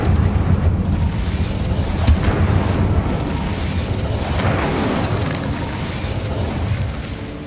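A fiery blast from the Incendio spell in Hogwarts Legacy, heard as a sustained rumbling roar with a sharp burst near the start, loud and continuous throughout with no talking.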